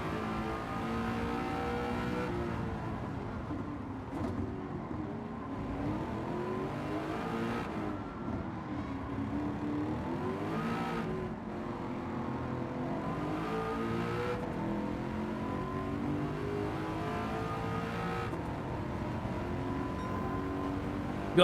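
Racing car engine in the video game Gran Turismo 7, a continuous high-revving roar that rises and falls with gear changes, loud and steady throughout with no talking.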